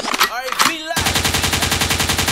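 A gunshot sound effect cuts in after a brief vocal sound and becomes a loud, rapid burst of automatic fire with an even, rattling rhythm.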